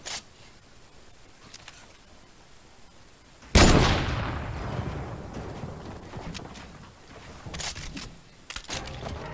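A sniper rifle fires once in a video game, a loud sudden blast followed by a long rumbling, echoing tail, with fainter pops and shots later in the background.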